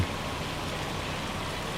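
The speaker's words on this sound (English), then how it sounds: "Hopefully the hail will have stopped when I come back to you." Hail falls in the video game Farming Simulator 25 as a faint, steady, even patter and hiss that continues throughout with no voices.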